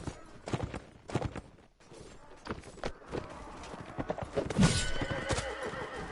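A horse in the Mount & Blade: Warband video game neighs loudly several times amid clip-clopping hooves and battle noise, with whinnies rising near the end of the clip.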